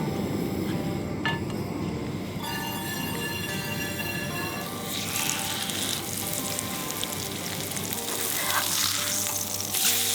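Halibut sears in a hot pan at a winter beach camp, giving a loud, steady crackling sizzle with bright popping spatters throughout.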